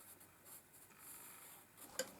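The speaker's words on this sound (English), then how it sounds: "of this pencil on the paper is really lovely" Pencil scratching over paper while loose lines and markings are sketched during a watercolor warm-up, a faint, close, dry rasp that holds steady and ends with a small sharp tick.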